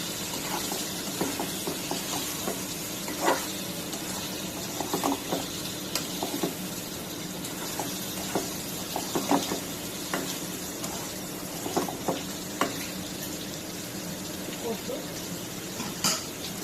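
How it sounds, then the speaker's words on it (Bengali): Magur catfish fried and stirred in a pan in a mud-walled kitchen, a steady soft sizzle with irregular scrapes and clinks of the spatula against the pan, close and moderate in level. "মাছটা একটু নাড়াচাড়া করে কষাই নিই"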